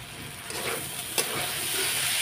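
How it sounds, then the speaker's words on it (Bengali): Chana dal being stir-fried in a pan for a Bengali dal, giving a dense, loud, continuous sizzle with one brief sharp scrape of the spoon, no voices. "এবার কষিয়ে নেব।"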